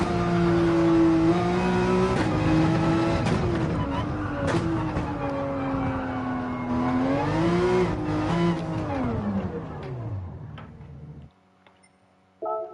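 A Gran Turismo 7 race car engine drones loud and close as it climbs uphill, its pitch rising and dipping through gear changes and throttle shifts before cutting off near the end, with faint ticks after.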